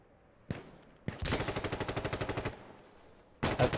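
Enemy gunfire in Insurgency: Sandstorm, one sharp shot, a second, then a fast automatic burst of about fifteen evenly spaced rounds, a pause, and another short burst, fairly close and loud against quiet surroundings.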